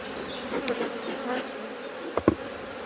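A soft, steady buzz of many honeybees close by at the hive, with a few louder clicks and knocks near the end.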